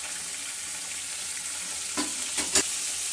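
Chicken pieces coated in soy sauce and vinegar with garlic and ginger fry in a pan, a steady close sizzle with a few sharp clinks of stirring near the end.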